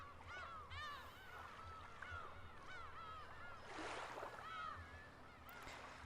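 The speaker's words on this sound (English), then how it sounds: "Could be hearing a lot of seagulls in your ears." Seagulls crying in the video game Umineko, several overlapping gull calls repeating through the stretch at moderate loudness over a steady low ambient hum, with no talking.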